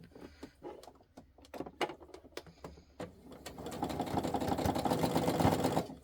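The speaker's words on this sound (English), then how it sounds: "Alright, so now what I'm going to do is I'm just going to baste these in." A sewing machine basts felt cat toy pieces, first in short, irregular bursts of clicking stitches, then running continuously and more loudly for the last few seconds.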